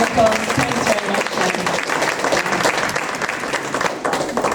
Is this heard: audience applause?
yes